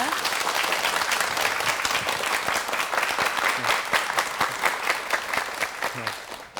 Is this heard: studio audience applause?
yes